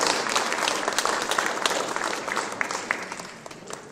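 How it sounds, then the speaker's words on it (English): An audience at a storytelling liars contest applauds its sponsors, a dense, steady wash of many hands clapping at close range that holds for the whole stretch with no voices. "So a round of applause for those 2 sponsors."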